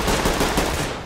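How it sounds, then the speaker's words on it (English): Gunfire in the tactical shooter Ready Or Not, a dense burst of loud shots rattling together for about a second, close and harsh with no talk over it. "Gunshot, second floor."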